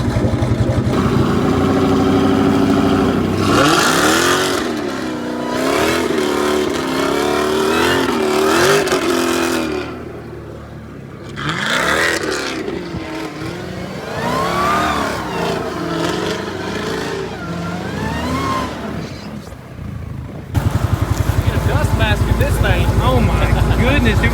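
A 1000HP Baja Trackhawk revs hard while drifting, its loud engine surging and wavering in pitch with a tyre-scrabbling roar, occasionally dipping, while people talk excitedly over it.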